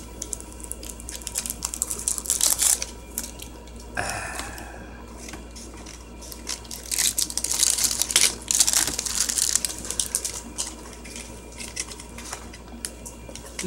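Scissors struggle to cut open a Pendulum Evolution trading card pack, with close, loud bursts of crinkling foil, snipping and crunching plastic, coming in irregular clusters with brief pauses between.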